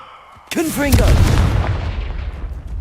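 A Confringo blasting curse detonates in the Hogwarts Legacy video game, a sudden loud burst that booms and rumbles out over a couple of seconds, with a brief voice at its onset.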